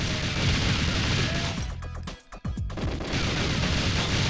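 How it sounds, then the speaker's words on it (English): Enemy gunfire in the N64 game Goldeneye: a loud, dense burst of shots and crashes fills the clip, briefly dropping out midway before resuming. "They shooting at me and her, except of course I can't get hit."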